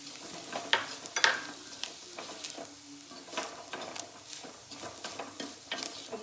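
Ground coriander and vegetable masala sautéing in a pan: a soft, low sizzle with scattered light scrapes and taps of stirring, fairly quiet throughout.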